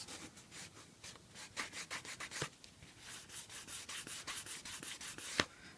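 Leather edges are rubbed and slicked with quick back-and-forth strokes, making a soft, close, rhythmic scraping friction sound that repeats steadily.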